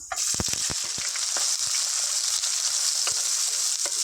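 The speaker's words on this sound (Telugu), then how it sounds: "వీటిని లైట్ గోల్డెన్ బ్రౌన్ వచ్చే వరకు ఫ్రై చేసుకోవాలి" Onions, green chillies and whole spices such as cardamom, cinnamon and shahi jeera frying in a pan until light golden brown, a loud close continuous sizzle with quick crackles and stirring clicks, no talking.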